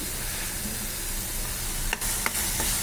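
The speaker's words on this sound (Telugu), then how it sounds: "వేగిన తర్వాత నానబెట్టుకున్న జీడిపప్పును వేసుకోవాలి" Soaked cashews fry in hot oil in a pan for a prawn cashew curry and are stirred, making a steady close sizzle broken near the end by a few sharp scraping taps from the spoon.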